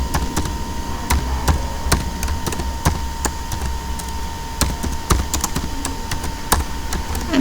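Someone types delay code on a computer keyboard, with irregular crisp key clicks in quick bursts and short pauses, close up over a faint steady hum.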